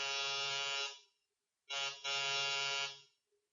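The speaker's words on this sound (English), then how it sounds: "Press the buzzer." An apartment door buzzer in a radio drama gives two harsh, steady electric buzzes, the first about a second long and the second nearly a second and a half, with a short silence between them and no talk.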